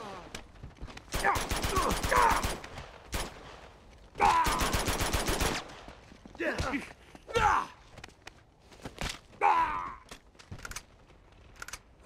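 Bursts of rapid automatic gunfire and single shots ring out in an Uncharted 2 urban combat scene. Loud volleys come in several separate waves with short gaps, and character voices shout between them.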